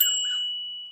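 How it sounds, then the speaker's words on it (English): A bicycle bell gives one bright ring that hangs in the air and fades away over about a second, with no other sound around it. "They ring their bells. We have bells too, by the way."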